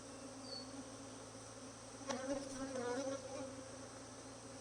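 A dense, steady drone of many agitated honey bees buzzing around an open hive, close and continuous, with a few louder bees zipping right past midway.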